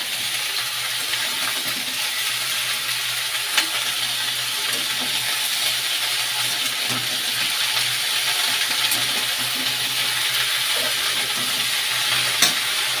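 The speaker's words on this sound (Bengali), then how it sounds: "সবজিগুলো দিয়ে কিছুক্ষণ নেড়ে চেড়ে নিতে হবে বন্ধুরা" Vegetables stirred in a frying pan, a continuous loud sizzle and crackle with occasional metallic clinks and scraping from a spatula.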